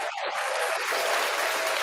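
Crowd applause sound effect with steady clapping and cheering, loud and continuous throughout, no speech over it.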